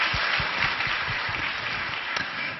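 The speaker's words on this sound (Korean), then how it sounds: "우리 좋으신 하나님께 영광의 박수 올려드리겠습니다" Church congregation at a Tuesday worship service giving a round of applause, a steady wash of clapping from many hands filling the room.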